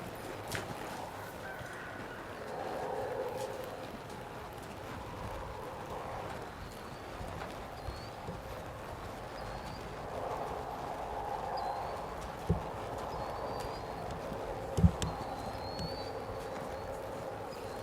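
A mustang's hooves clip-clopping at a steady walk while being ridden, muted and somewhat distant over low outdoor ambience, with a couple of sharper knocks and faint birdsong.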